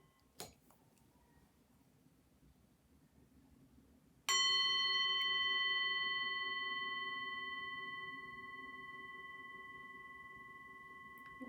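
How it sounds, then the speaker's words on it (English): A single bell struck once rings out clearly with sustained harmonic tones that slowly fade, following a quiet stretch of soft breathing-room ambience. "Listen for the sound of the bell."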